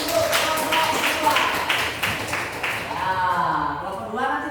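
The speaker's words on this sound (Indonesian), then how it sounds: "tepuk tangan dulu untuk kelompok 2" A classroom claps for a student group in a brisk, rhythmic pattern for a few seconds, then the clapping gives way to a teacher's voice speaking.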